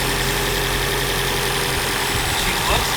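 A Nissan SR20DET engine idles steadily right after fuel injector replacement, a loud, continuous low rumble with a faint rhythmic pulse, heard up close.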